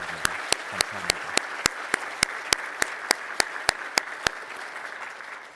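A church congregation at a Christmas service claps for their missionaries. A few close, sharp hand claps ring out in a steady, evenly spaced rhythm over a soft background, with no talk, and the claps stop just before the end.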